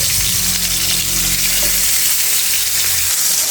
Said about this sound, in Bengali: মাছগুলো দিয়ে লাল করে ভেজে নেব